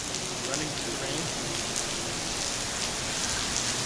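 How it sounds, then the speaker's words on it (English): Dense, steady hiss of heavy rain pours down beside a small creek overflowing onto a pathway during the 2010 flooding in Nashville, Tennessee, continuous and close with no pauses. "Running to the rain."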